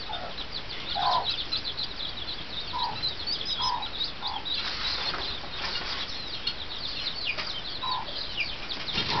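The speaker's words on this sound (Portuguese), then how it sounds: "Olha lá a galinha." Several short, soft clucks from chickens on a farm spaced out over a steady background hiss, with occasional flutters, fairly distant.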